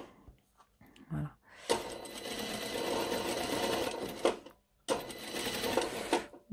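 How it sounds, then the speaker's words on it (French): A sewing machine stitches fabric in two loud, rapid running bursts separated by a brief pause, preceded by a few small clicks and handling taps. "Je vais faire une piqûre pour stabiliser."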